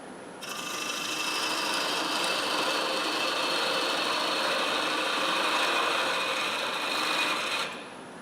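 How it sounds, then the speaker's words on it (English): On a wood lathe a tool cuts a dovetail into a spinning wood piece at a woodturners' meeting, producing a steady continuous rasping, scraping hiss for several seconds that starts and stops abruptly, close and fairly loud. "Now I'm going to cut a dovetail in there."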